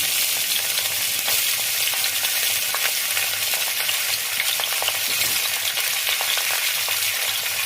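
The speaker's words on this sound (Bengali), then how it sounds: "এরপরে কড়াইতে তেল দিচ্ছি এগুলো ভেজে নেবো" Vegetables for Bengali shukto fry in hot oil in a wok (kadai), giving a steady, close, continuous sizzle with occasional stirring scrapes throughout, no voices.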